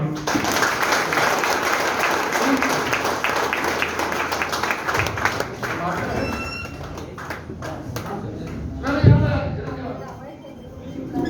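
An audience at a motivational show breaks into applause, a dense, steady clatter of many hands that thins out near the end, with a voice speaking over and after it.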